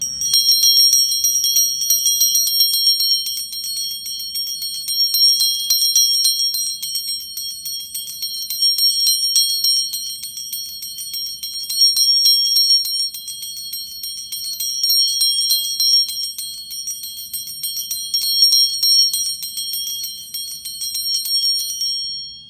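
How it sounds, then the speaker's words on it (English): Two energy-clearing bells, one called masculine and one feminine, struck repeatedly in a room, their bright high ringing tones layering and sustaining in swelling waves without any speech. "I'll use bells to kind of clear the energy in the room"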